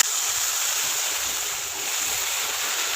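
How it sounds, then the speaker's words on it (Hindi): Water poured into a pan of roasting halwa masala: a steady, loud hissing and sizzling wash of noise that holds evenly for a few seconds with no speech. "तो इसमें पानी डाल दिया"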